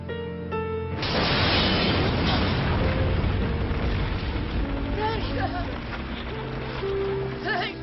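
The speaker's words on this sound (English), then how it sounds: "They blew up an unexploded bomb." An unexploded wartime bomb blown up in a town, a sudden deep roaring blast that rumbles on for several seconds, heard under a film's soundtrack with voices talking.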